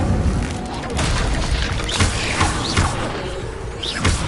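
Fire spell cast in a Hogwarts video game, a dense stretch of booming blasts, whooshes and crashing impacts rolling continuously, with rising magical swish tones cutting through the loud battle noise.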